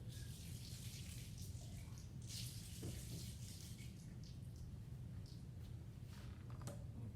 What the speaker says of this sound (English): Let's rinse that test tube out a little bit.